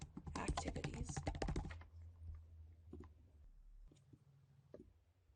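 A computer keyboard is typed on to enter a report name in network-management software, a quick burst of close clicks under a voice, followed by a few sparse keystrokes.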